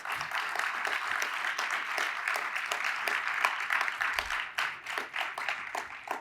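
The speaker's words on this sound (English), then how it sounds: "Let's give them a big round of applause" A workplace speaker-series audience gives a round of applause, many hands clapping in a continuous, even patter that thins toward the end, fairly near and moderately loud.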